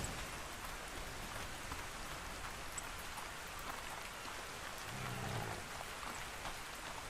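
Steady rain hisses across a video-game landscape in ARK Survival Ascended. It is an even, continuous downpour with no talk, holding at a moderate level for the whole stretch.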